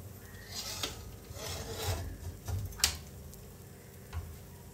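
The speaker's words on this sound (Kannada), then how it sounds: "ಈಗ ಎಕ್ಸ್ಟ್ರಾ ಫ್ಯಾಬ್ರಿಕ್ ಏನಿದೆಯೋ ಅದನ್ನೆಲ್ಲ ನೀಟಾಗಿ ಕಟ್ ಮಾಡ್ಕೊಬಿಡೋಣ" Excess fabric being trimmed off neatly, a soft rasping, rubbing cut with a few sharper snips standing out, close and quiet with no talking.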